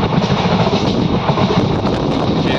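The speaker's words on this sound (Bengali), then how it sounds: "ট্রেন দাঁড়াচ্ছে না" Steady, loud rumble of a moving train, with continuous clattering rolling noise and rushing wind, heard close from on board as it travels past hills without stopping.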